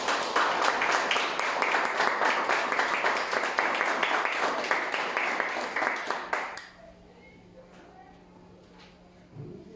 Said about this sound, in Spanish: Dale una ofrenda de palmas a Cristo en esta hora